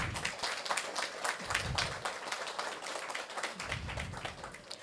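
An audience at a book-event conversation breaks into sustained applause, a dense, fairly faint patter of many hands clapping steadily throughout.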